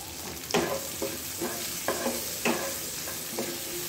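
Onions frying and sizzling in a pan with salt, turmeric and chili powder while a spoon stirs them in periodic scrapes over a steady hiss, close up, with no talk.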